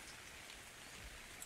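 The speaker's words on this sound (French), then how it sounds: "Tiens, il pleut." Soft, steady patter of rain falling in the video game The Island, a continuous hiss with low rumble underneath, no voices.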